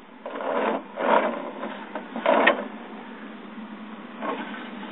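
Handsaw cutting wood for rafters, guided along an old handsaw, a few close rasping strokes in uneven bursts with quieter gaps between them.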